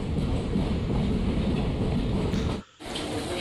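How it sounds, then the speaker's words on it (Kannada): A passenger train rolls into Davanagere railway station, heard from on board as a steady, dense rumble of wheels and carriage noise that drops away briefly near the end before resuming. "ದಾವಣಗೆರೆ ರೈಲ್ವೆ ಸ್ಟೇಷನ್ಗೆ ಎಂಟ್ರಿ ಆಗ್ತಿದೆ ನಮ್ಮ ಟ್ರೈನ್"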